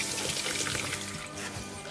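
Running water from a tap rinsing a pH monitor's sensor, a steady close splashing flow with no speech.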